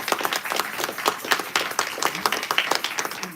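A congregation claps at a Shabbat service at Temple Shalom Emeth, a short burst of steady, moderately loud applause from a modest crowd.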